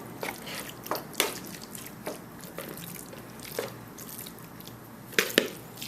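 A spicy chili mixture is spooned into a small 8-by-8 non-stick pan, making soft, wet plops and squishes at irregular intervals. The louder splats cluster near the end.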